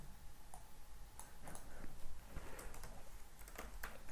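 Quiet, close typing on a computer keyboard in irregular bursts of key clicks, some closely spaced and some with short pauses between them, with no talk.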